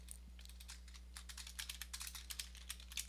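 Quick, faint clicks of a computer keyboard as someone types a description for a Python program, irregular keystrokes in bursts over a steady low electrical hum, no speech.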